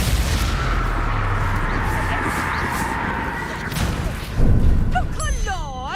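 Booming blasts from the Confringo fire spell in the video game Hogwarts Legacy, with loud rumbling bursts and crashes under busy combat noise and talk, then a heavier impact toward the end.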